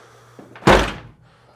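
A car's suicide door with a solenoid pop latch swings shut in one solid, close thunk, preceded by a faint click and followed by a quickly fading tail over a low steady hum.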